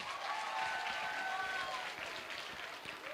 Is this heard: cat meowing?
no